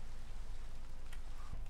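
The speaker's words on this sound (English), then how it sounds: "Oh, it's raining, and the rain looks beautiful." Steady rain falls in Minecraft as a continuous soft hiss of drops with no break, with a couple of faint clicks on top and nobody speaking.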